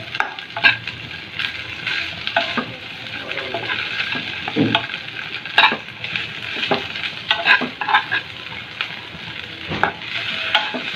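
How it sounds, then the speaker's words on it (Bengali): Chepa shutki, dried fish, fries in a light layer of oil with a constant close sizzle, broken by frequent scraping and stirring clicks in the pan. "খুব ভালো করে ভেজে নিতে হবে তেলের মধ্যে।"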